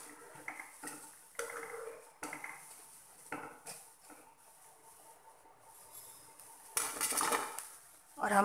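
Fried potato bhakarwadi is lifted out and transferred onto another plate, quiet clinks and scrapes of a metal utensil against dishes in a series of short, irregular bursts with faint oil sizzle underneath.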